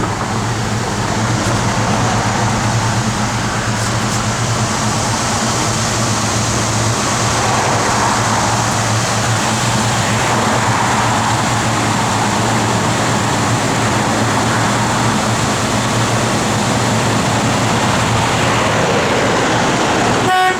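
Small-block V8 engine in a 1972 Chevrolet K5 Blazer idling cold, a steady broadband rumble that stays loud and constant throughout, with no talk.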